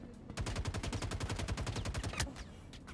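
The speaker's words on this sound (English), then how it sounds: "I'm being shot at again." Rapid automatic gunfire strikes close to the player in the Star Citizen video game, a dense, loud burst of evenly spaced shots lasting a couple of seconds, then a short pause and a few trailing shots.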